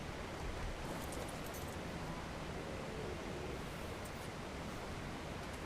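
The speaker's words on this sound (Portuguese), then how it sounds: "o barulho da natureza. Mesmo assim ele está um pouco alto. Por causa da cachoeira" A constant, loud rush of falling water from a waterfall, part of the nature ambience of the video game ARK Ultimate Mobile, forming a dense unbroken roar that fills the scene.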